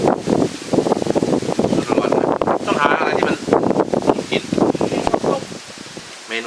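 Wind gusts buffet the microphone outdoors beside a straw pile while someone talks over it, the rough rustling blowing continuously under his voice.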